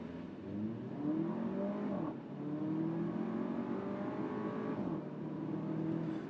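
A 2022 Porsche Macan accelerates hard from 0 to 60, the engine rising steadily in pitch through two quick upshifts, heard from inside the cabin at moderate volume with no talking.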